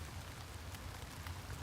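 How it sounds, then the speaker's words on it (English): Rain falls outside in Houston, a brief, faint, even patter of drops on surfaces heard from indoors. "Raining in Houston today."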